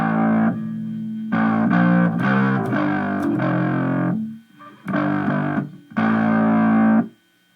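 An electric bass guitar plays a bass line, heavily distorted and effects-laden, in a few punchy bursts of sustained notes with short gaps between them, close and alone.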